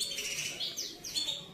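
Caged canaries chirp and trill steadily in bright, high-pitched phrases, fairly close and clear over a low background hum.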